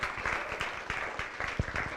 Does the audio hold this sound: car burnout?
no